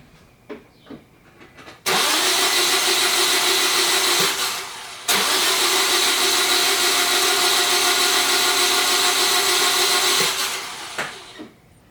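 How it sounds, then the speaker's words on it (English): A Scion xB engine is dry-cranked with the spark plugs removed: a loud, steady starter whir runs for several seconds, stops briefly, then resumes and winds down, with a few small clicks before it starts. "I did some dry cranking there without the spark plugs in to try to push stuff out"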